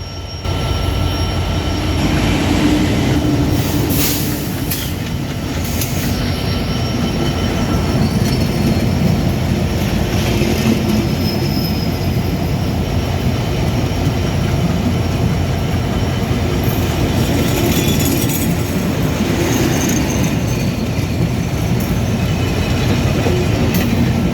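Trains pass at Abdulpur railway station, Bangladesh, rumbling loudly and continuously, wheels clattering on rails with occasional metallic squeals, a steady heavy roar throughout.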